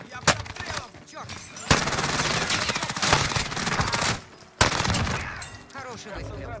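Rapid bursts of MAC-10 machine gun fire in Call of Duty: Warzone, several sustained volleys with brief pauses and sharp single shots between, loud and close.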